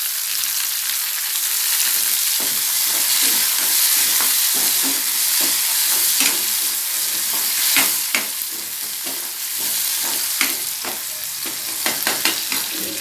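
Tomatoes tipped into a pan of frying onions on a home stove, giving a steady close sizzle with repeated scraping stirs throughout and no talking.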